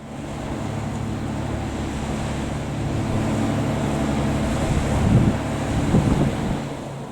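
Sea waves wash continuously onto a beach, a steady broad roar with gentle swells and some wind buffeting on the microphone, heard alone with no voices.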